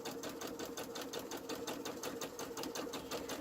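A sewing machine back stitching on lightweight quilt fabric for a Christmas wall hanging or table runner, running in a steady close rapid whir with a faint rhythmic needle pulse throughout.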